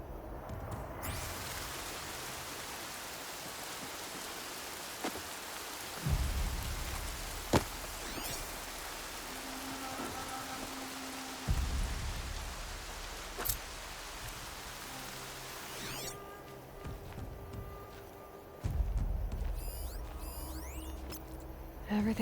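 Steady rain falling in Horizon Zero Dawn Remastered, a continuous hiss that swells and dips with low rumbles, occasional clicks and metallic pings.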